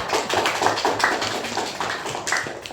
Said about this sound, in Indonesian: Sekarang tepuk tangan untuk kelompok 3.